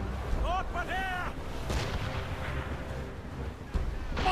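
Ship cannons firing during a naval battle in the video game Assassin's Creed Rogue, with heavy booming blasts over a dense rumbling battle din, a sharp shot near the end, and shouted voices mixed in.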